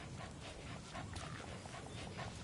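Dog in Metal Gear Solid 5: The Phantom Pain whimpering and panting softly, a steady breathy rasp with faint whines over a noisy game background, no talk.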